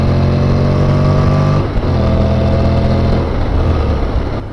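A Honda NC750X motorcycle engine is held at about 6,000 RPM in first gear. It makes a loud, steady, close droning hum with a brief dip partway through and no talk.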